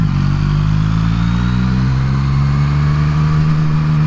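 A Yamaha MT-09 motorcycle rides up a high street on a morning commute, its engine a loud, steady, close rumble with slight rises in pitch throughout.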